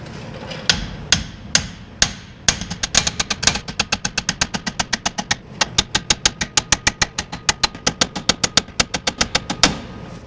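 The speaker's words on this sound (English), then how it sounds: "we'll get a hammer, beat it in there" Metal hammer blows ring out driving a ball joint into a classic GM Squarebody truck, a few slow strikes at first, then a long rapid run of sharp steady hits, loud and close with a faint engine hum beneath.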